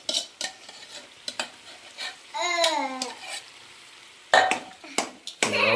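Potato-pea masala for pav bhaji being stirred in a pan, with scraping spoon strokes and faint sizzling, broken by a few louder clatters and a brief babbling noise midway.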